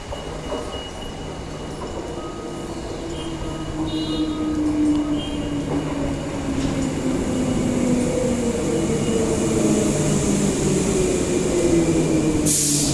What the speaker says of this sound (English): next Midland train is here now